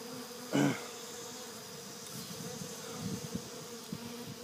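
Bees at a sugar water feeder hum steadily at a low, even drone, with one brief louder burst near the start as an insect passes close.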